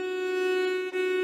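A violin holds a steady, clear bowed note at moderate loudness, with a brief break near the end, playing a passage from a holiday second violin part.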